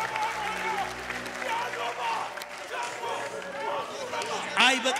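A church congregation claps together during a service, a dense patter of hands running steadily under a preacher's loud voice and some crowd murmur.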